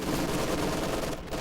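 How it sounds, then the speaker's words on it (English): MG42 machine gun fire in the video game Company of Heroes 2, a brief stretch of dense rapid rattling shots blending into a steady battle din at moderate loudness, no talking. "these MG42s, they are definitely shooting"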